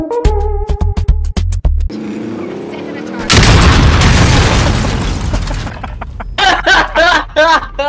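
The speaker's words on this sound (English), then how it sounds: "You ready to get destroyed by an RPG?" An RPG explodes in a video game with a sudden loud blast that rolls into a sustained roaring rumble lasting several seconds. Earlier there are sharp bursts, and voices come in over the fading noise.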